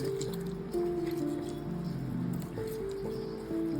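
A hand squishes and kneads a soft mashed jackfruit seed mixture for a Palaamusu stir-fry, giving close, wet, intermittent squelches under faint background music.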